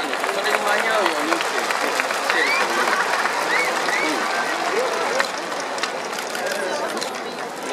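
Large stadium crowd at a baseball ballpark applauding and cheering steadily, a dense wash of clapping and crowd noise filling the space with distant voices mixed in, loud and continuous throughout.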